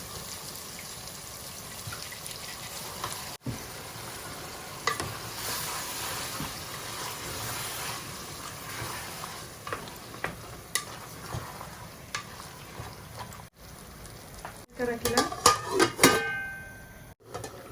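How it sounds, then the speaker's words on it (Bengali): Chicken stirred and fried in a pan for a home-style Bengali chicken curry: a steady sizzle with scraping stirring strokes, growing louder and busier with clattering toward the end, no voices. "তো এখন আমি একটু নাড়াচাড়া করিয়া চিকেন দিলাম।"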